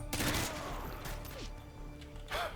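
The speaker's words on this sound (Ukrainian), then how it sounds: "Нічого собі шестиствольний кулемет." Six-barrel machine gun roaring in Call of Duty: Modern Warfare 2, a dense sustained burst of gunfire under clashing game noise, with a fresh loud burst near the end.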